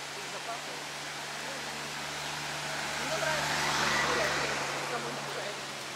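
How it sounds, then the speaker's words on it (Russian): A steady, broad rushing roar of a waterfall near Nuwara Eliya, Sri Lanka, fairly distant and continuous, swelling slightly louder toward the middle. "Ой, водопад, пошлите."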